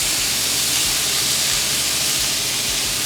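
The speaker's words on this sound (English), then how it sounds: "so I'm gonna wait until it gets a nice sear, and then we will turn that over." Meat searing in a very hot pan produces a loud, dense, continuous hiss, like steam spitting, that fills the whole short stretch without a break.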